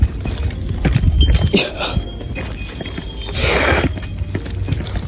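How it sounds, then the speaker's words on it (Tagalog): A donkey on a street in Santorini, Greece, with hooves clip-clopping in a loose walking rhythm close by, mixed with outdoor noise and a brief swell of passing sound. "Oh, donkey."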